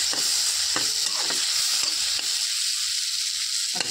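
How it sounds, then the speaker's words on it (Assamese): Capsicum and egg curry being stirred in a frying pan, a continuous close sizzle under repeated scraping and knocking of the spoon against the pan. "এতিয়া ঢাকনি এখন দি চাই মই লৰাই দিওঁ।"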